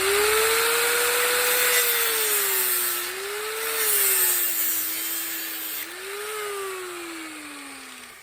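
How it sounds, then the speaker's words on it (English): A cutoff wheel grinding through braided steel fuel line for a turbo LS fuel system, a loud sustained high-pitched whine that dips and rises in pitch as the blade bites, continuous with no talk. "I'm going to use a cutoff wheel, which may or may not be the best way to do it, but with this braided steel stuff, it works."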